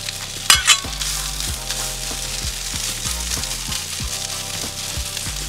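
Hash brown omelette sizzling in butter on a very hot Blackstone griddle, steady loud frying hiss with rhythmic scraping and spatula knocks spread throughout, plus a couple of sharp metallic clinks early on.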